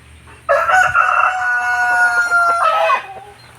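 A White Leghorn rooster crows once, loud and close, a single long strained call of about two and a half seconds that breaks at the end, with faint farm background beforehand.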